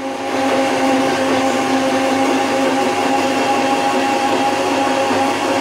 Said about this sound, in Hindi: और इसको अच्छे से ब्लेंड होने देंगे।